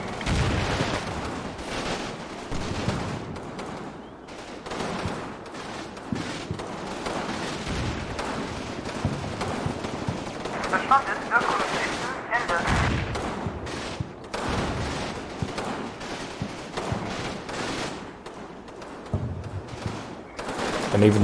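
Video game battle in a German campaign, with mortar rounds, Marder fire and machine guns crackling in dense, continuous volleys and heavy booms, loud and close throughout, with occasional voices underneath.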